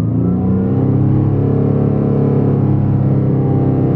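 A car engine revs and holds steady around 2000 rpm while a shift light is demonstrated, giving a loud, continuous, even drone with no talking over it.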